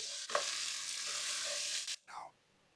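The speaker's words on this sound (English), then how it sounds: "Then I add the nduja. Be careful how much you put in. Give it a good stir." Potatoes and spicy nduja sizzle loudly in a pan while being stirred for pasta with potatoes, a bright continuous frying hiss that cuts off abruptly and then briefly returns.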